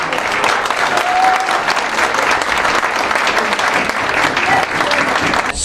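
Stadium crowd applauding a women's football team after a 10-0 win in an inaugural game, steady dense clapping at full strength throughout with no break.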